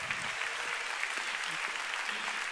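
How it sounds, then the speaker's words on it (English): A church congregation at a Pentecostal service claps together in sustained, steady applause, a dense wash of hands filling the room at even loudness throughout. "Why don't we just give the Lord a big clap one more time?"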